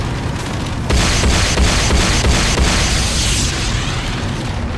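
A structure in the game C&C Renegade explodes as it is destroyed: a sudden loud boom that keeps crackling with repeated bursts, then fades into a sustained roar.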